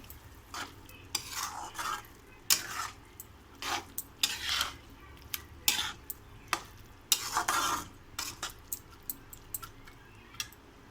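Ridge gourd and moong and chana dal curry with added water is stirred in a pan, giving a run of close, uneven scraping and clinking strokes against the pan's metal sides and bottom.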